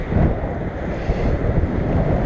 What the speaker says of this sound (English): Look at the wind whipping that weeping willow